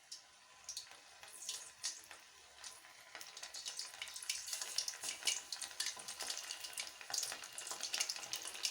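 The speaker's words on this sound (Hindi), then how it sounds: "अब मैं चिकन का एक एक पीस उठाऊंगी, इस बैटर में डिप करके और ये गरम ऑयल में फ्राई करूंगी।" Battered chicken pakora pieces fry in hot oil with a crackling sizzle that grows steadily louder and denser as more pieces go in; close by, with no talking.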